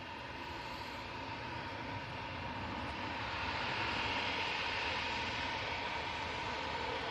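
A Ryanair airliner touching down at Manchester Airport, heard as a broad, steady roar of jet engine noise that swells slightly partway through, distant and continuous, without talking.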